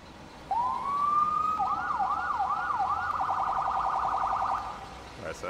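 Ambulance siren in the EmergeNYC firefighting game, rising into a steady wail and then switching to faster yelp cycles, loud and clear for several seconds before cutting off.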